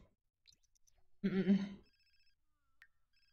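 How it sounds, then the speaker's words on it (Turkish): A phone rings in The Sims 4, a single short electronic ring burst in the middle that stands out from near silence and then fades, with faint game tones around it. "Telefonum çalıyor."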